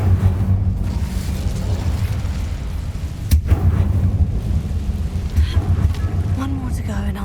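The Incendio fire spell in Hogwarts Legacy goes off as a loud roaring whoosh and crackle that swells into a sustained, rumbling burst, with a sharp crack in the middle.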